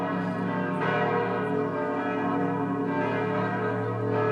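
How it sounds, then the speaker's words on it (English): Church bells ring steadily, their overlapping tones layered into a rich, continuous peal with no voices. "It was church bells ringing."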